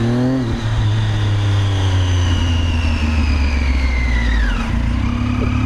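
A motorcycle engine with a faulty clutch runs loud and close, revving with an uneven drone that rises and then drops off abruptly before settling back.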